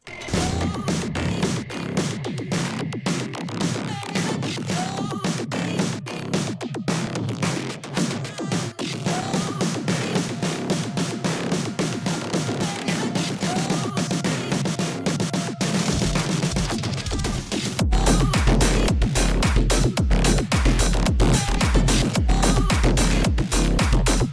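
Dense electronic dance music with rapid driving percussion and layered synths, growing fuller and heavier as a deep bass enters near the end.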